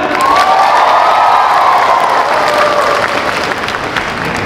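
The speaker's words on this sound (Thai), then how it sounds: "ขึ้นเวทีมาแล้วขอเสียงคนดูหน่อยครับ" A large crowd at an outdoor political party rally in Udon Thani, Thailand, claps and cheers loudly and continuously, with whoops and shouts rising over dense sustained applause that eases slightly toward the end.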